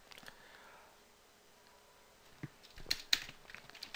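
A few quick, light keyboard clicks come near the end while someone types text. Most of the stretch before them is quiet room tone.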